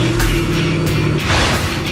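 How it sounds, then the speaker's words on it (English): A 650 hp V8 in a Ford Mustang GT500 fires up, a loud, close, deep engine roar with a low rumbling idle and a swell partway through, no voices. "the sound of a 650 horsepower V8 being fired up"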